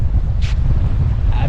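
Strong wind buffets the microphone in a steady low rumble, loud and constant across the short moment.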